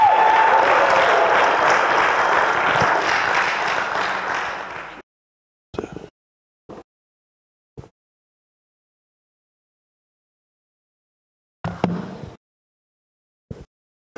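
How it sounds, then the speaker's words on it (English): Church audience applause for a visiting preacher, a full, steady round of clapping for about five seconds that cuts off, followed by a few scattered faint sounds amid silence. "let's give him a round of applause this evening"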